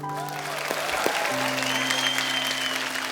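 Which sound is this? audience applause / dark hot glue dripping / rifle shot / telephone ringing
audience applause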